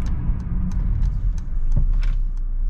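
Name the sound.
2023 Mercedes-Benz GLE 350 braking during a brake test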